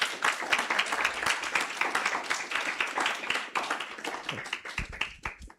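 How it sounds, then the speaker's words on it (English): Audience at a live-streamed event clapping for a speaker walking to the front, a moderately close, uneven patter of individual hand claps sustained throughout, thinning toward the end. "Let's clap our hands for Desiree as she comes to the front."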